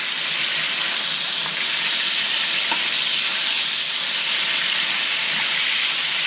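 Steak searing in a hot pan for pan con bistec, a loud, close, continuous hiss and sizzle with a few faint pops, steady from start to finish and heard alone without talking.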